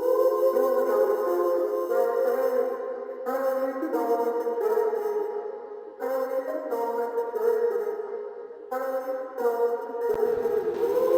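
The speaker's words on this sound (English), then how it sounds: "I added a vocal sample" A filtered, thin-sounding vocal sample in a modern R&B track repeats in short phrases with a boxy, lo-fi tone, missing low end, steady and fairly loud.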